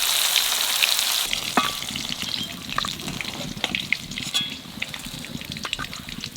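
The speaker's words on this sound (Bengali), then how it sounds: "এখানে ইলিশ মাছ ভাজবো।" Hilsa fish frying in oil in a village kitchen, starting with a bright intense hiss that settles into bubbling, crackling sizzle with scattered pops, close and continuous.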